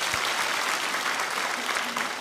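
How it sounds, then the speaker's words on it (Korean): A church congregation at an autumn dawn revival service applauds in steady, dense clapping that fills the hall evenly from start to finish, with no voices. "하나님께 영광의 박수 올려드리겠습니다"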